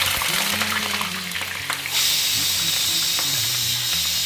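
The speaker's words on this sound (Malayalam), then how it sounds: "ഉരുളക്കിഴങ്ങ് വറുത്തത് റെഡി ആയി കഴിഞ്ഞു" Potato pieces frying in hot oil in a home kitchen pan, a loud close sizzling hiss that jumps in intensity partway through, with a low voice talking underneath at first.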